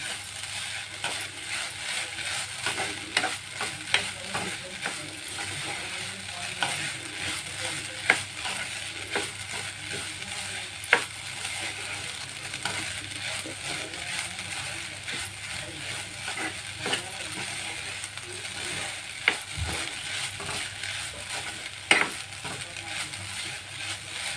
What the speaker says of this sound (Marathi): त्याच्या तुपामध्ये चांगलं परतून घेऊया आपण